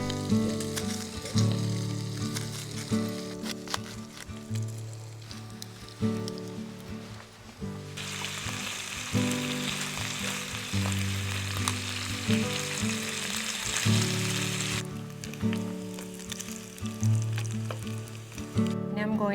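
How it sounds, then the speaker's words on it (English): Bacon frying in a pan at a woodland camp, a steady close sizzle and crackle under a continuous low musical hum. "the first thing I got going is some bacon"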